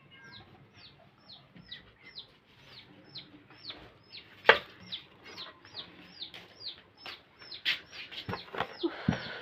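Several chickens cluck repeatedly at close to moderate distance, short rhythmic calls overlapping through the scene, with occasional louder squawks and faint background household noise, no talking.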